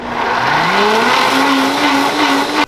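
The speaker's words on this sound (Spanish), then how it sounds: "Le mandamos a la licuadora con agua y licuamos" A blender whirs loudly as it purees grains with water, a steady close motor drone with a rising pitch as it spins up and then holds.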